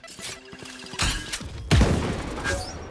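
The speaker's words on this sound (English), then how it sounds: "Grenade!" A grenade blast in the tactical shooter Valorant during a pro match, a loud close thump that rolls out into a heavy boom, preceded by clicks and softer impacts.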